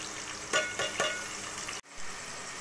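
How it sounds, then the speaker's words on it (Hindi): Onions going into hot oil, a soft sizzle with a few sharp crackling bursts early on, then a brief drop and the frying resumes, fairly quiet and close. "ये देखिए हमारा जो ऑयल है वो गर्म हो गया। अब हमने इसमें जो है प्याज डाल देने हैं।"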